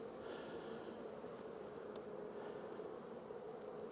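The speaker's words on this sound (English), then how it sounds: "It is so full of bees." Honey bees in an opened hive after winter give a steady, faint, close buzzing hum that drones on evenly for the whole few seconds, with no talking.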